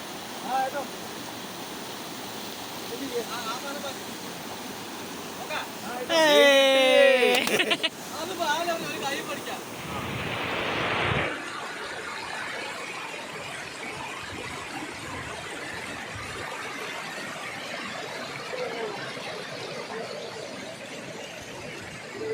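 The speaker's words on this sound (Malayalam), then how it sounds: "ഇവിടെയാണ് ആ വെള്ളച്ചാട്ടം ഉള്ളത്" A forest waterfall at Parakkadavu, Idukki, pours as a continuous rushing hiss throughout, with people talking over it and a brief louder burst partway through.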